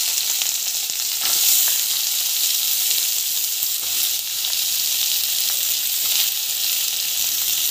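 Onions, garlic and three chillies sizzle and fry in a pan, a loud, continuous hiss and crackle with occasional stirring scrapes, close by and with no talking.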